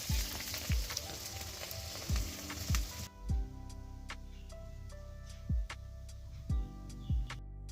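Onions frying in a pan as the base for a Bengali-style mutton curry, a soft sizzle with occasional stirring knocks of a utensil against the pan, fairly quiet and close.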